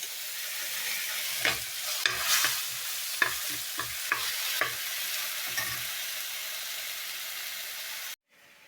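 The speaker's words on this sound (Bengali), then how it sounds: "মশলাটা ভাজা ভাজা হচ্ছে" Spices fry in a pan with a steady sizzle, broken by several sharp scraping strokes of stirring. Near and fairly quiet, with no voices.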